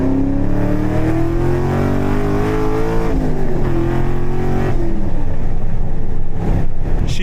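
A Chevrolet Camaro Z28 engine and exhaust while driving, a loud, steady drone with engine pitch climbing gradually, dipping around the middle and then building again as the car pulls.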